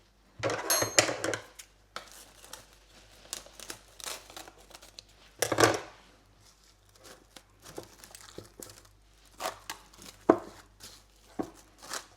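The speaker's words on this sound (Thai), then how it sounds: "เอาแรปพลาสติกปิดไว้นะคะ" Plastic cling wrap is pulled and pressed over a bowl of food marinated with sugar, Maggi seasoning and oil, giving two short, sharp crinkling bursts amid quieter rustles and handling noises.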